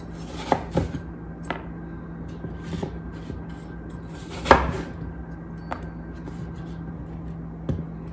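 Knife cutting apples into quarters and trimming out the cores on a board; scattered single chops and slicing knocks, one louder thunk midway, over a steady low hum without talking.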